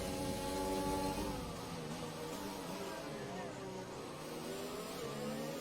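Race cars battle closely in a racing video game, several engines whining and revving at shifting pitches, with a steady high tone above and speech faintly audible beneath.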